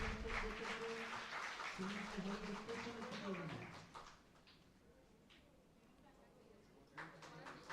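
Audience applause at an award ceremony at a conference, steady broadband clapping with some talk and tones over it for the first four seconds, then fading to a quieter room before a brief renewed burst near the end.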